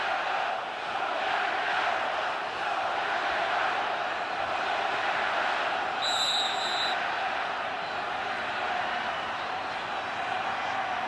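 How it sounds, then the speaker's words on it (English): A football stadium crowd roars during the 2008 Packers vs Lions Week 17 game, a dense, steady wash of massed voices that stays loud and even throughout. "the crowd trying to get back into it, deliver a little energy"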